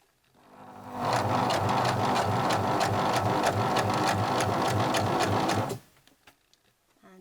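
Domestic sewing machine stitching fabric around pinned edges for a 17th-century shift, running steadily with a fast, even mechanical rhythm for several seconds before stopping abruptly.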